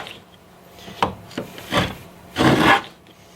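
A tongue and groove hand plane shaves wood in a few short strokes, a faint tap followed by soft rasping scrapes that swell into one louder, longer shaving stroke near the end, close and without talk.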